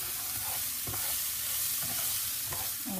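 Cilantro, onions and garlic sizzle steadily in a hot pan, a close continuous crackle and hiss with faint stirring scrapes, no voices.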